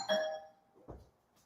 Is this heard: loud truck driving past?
no